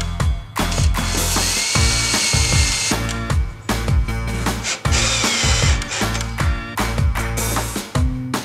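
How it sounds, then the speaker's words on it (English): A power drill drives screws through a replica prop base into a wooden baseboard, repeated loud whirring bursts with ratcheting clutch chatter and short pauses between runs. "We'll go ahead and screw this down to our baseboard."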